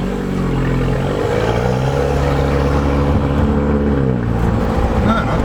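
An Audi A5 with a 2-litre turbo engine and a tuned exhaust runs loud and close, holding a deep, steady drone that shifts in pitch slightly as the revs rise and ease.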